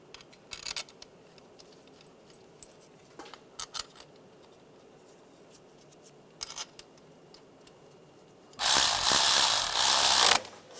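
Ratchet snugging fuel injector bolts on a 1996-2002 Toyota 4Runner: a few faint brief clicks early on, then a loud close burst of rapid ratcheting lasting about two seconds near the end.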